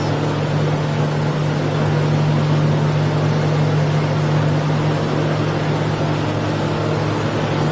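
A 2022 Stabicraft 1850 Fisher motorboat's engine drones steadily at planing speed, a constant low hum with broad wash of water and wind noise throughout, close and loud.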